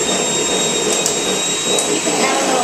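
An electric mixer whirs steadily and loudly while beating a simple buttercream frosting for cinnamon rolls, a continuous motor drone with no pauses.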